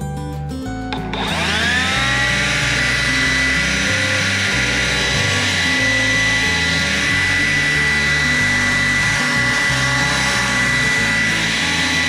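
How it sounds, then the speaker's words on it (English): An electric or gasoline leaf blower runs continuously at an outdoor fountain being winterized, clearing out dirty water with a loud steady whine that starts up after a brief moment and holds unchanged throughout, with no talking. "clean out all the contaminated and dirty water with either a powerful electric leaf blower or a"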